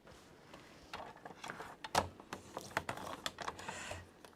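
A regular A4 sheet is cut down to size by hand, giving a quick run of crisp, close snips and clicks at an uneven pace with no talking.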